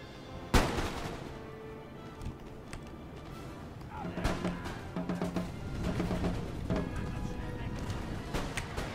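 Musket volley fire in the video game Napoleon Total War during a siege of Vienna: a sharp crack opens, followed by a rolling, crackling spread of shots and battle din with a voice talking over it.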